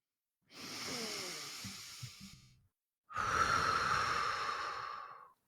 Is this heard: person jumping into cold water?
no